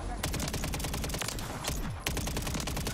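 Heavy gunfire in MWIII Zombies, rapid automatic bursts crackling almost continuously for the whole stretch, with a brief dip near the end before the shooting resumes loudly.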